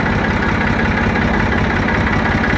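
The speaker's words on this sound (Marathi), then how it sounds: "एकदम बारीक ट्रॅक्टर चालत आहे" Tractor engine idling at a tractor garage, a steady, loud mid-to-low diesel throb with an even chugging rhythm and constant vibration, close by and without talk.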